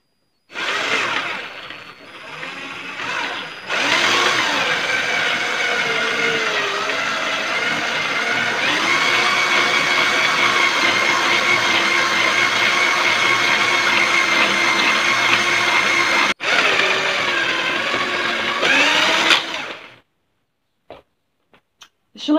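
An electric drill drives a manual hand knitting machine at its lowest speed, a steady whirring motor hum with the carriage clattering along, running continuously for about twenty seconds before stopping.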